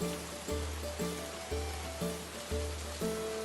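Steady rain pours in a continuous hiss, layered under a looping, pulsing musical backing that repeats every second or so.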